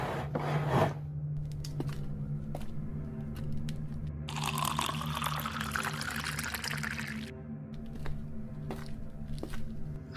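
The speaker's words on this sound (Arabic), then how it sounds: "هاتله شويه ميه درش." Drinking water is poured into a cup for someone just woken from a nightmare, a steady splashing trickle lasting a few seconds amid faint clinks and shuffling in a quiet room.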